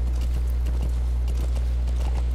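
A horse's hooves clip-clop at a steady walking pace in Metal Gear Solid V: The Phantom Pain, the soft regular thuds sitting under a loud constant low hum.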